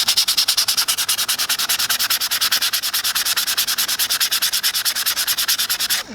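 Hand sanding wood back and forth to gather sawdust for glue, a loud rhythmic rasping of quick even strokes repeating steadily for about six seconds, close up.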